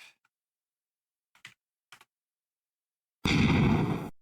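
A loud, dense explosion sound effect bursts in near the end and rumbles for about a second, preceded by a few faint, scattered clicks over near-silence.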